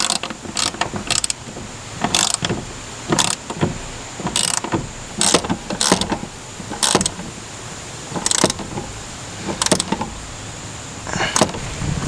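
A socket wrench ratchets while a car hood latch is adjusted on a Hellcat, giving bursts of rapid clicking with short pauses between them, close and clear against a steady background hum.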